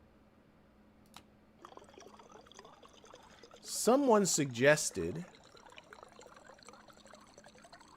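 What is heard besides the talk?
water being poured to refill a water bottle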